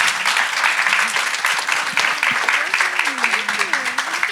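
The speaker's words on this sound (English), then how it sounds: "Big applause to our panelists" Applause for the panelists at the close of a panel discussion on inclusive investment, a dense steady wash of many hands clapping throughout, with a voice speaking over it near the end.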